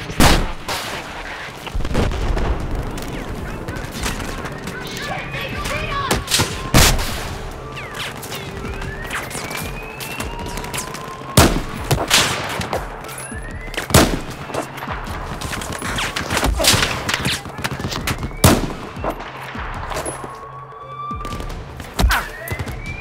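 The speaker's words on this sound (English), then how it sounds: "Where am I getting shot from?" Gunfire crackles through a Battlefield 4 single-player campaign battle: sharp shots and short bursts arrive irregularly from near and far over a steady din of combat, with loud close reports punctuating the mix.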